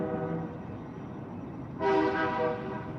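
A passing train sounds its horn at night, a steady drone that swells louder partway through and then eases off slightly, heard alone with no talk.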